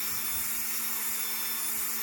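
A polishing wheel buffs a polymer clay pendant, a steady, close whir and hiss of the spinning wheel holding constant throughout with no speech.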